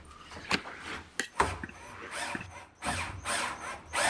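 Screws being driven through a thick wooden hanger into wall plugs, heard as ratcheting, grinding bursts with a few sharp knocks in between, close by.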